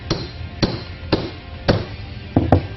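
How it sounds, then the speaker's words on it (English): A hammer taps metal several times, tapping a sleeve into a sway bar end-link bushing, spaced strikes followed by a quicker cluster of three at the end, close and sharp. "Place the sleeve into the center of the bushing and tap it home with a hammer."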